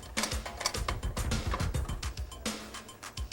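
Whipped cream sprays from a can onto a white mocha in a coffee shop, giving a string of loud, sputtering bursts with short hissing pulses and gaps between them.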